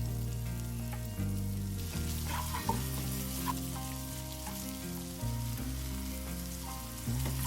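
Prawns fry in oil for a brinjal and prawn curry while being stirred, a loud steady sizzle broken by scraping spoon strokes and small clatters, no voices.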